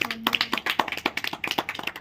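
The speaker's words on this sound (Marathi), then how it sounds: "सगळे जोरदार टाळ्या झाल्या पाहिजे सगळ्यांसाठी" Small group of students clapping for the winning team at a school competition, quick uneven claps in a rapid irregular rhythm, close and moderately loud, a voice briefly heard at the start.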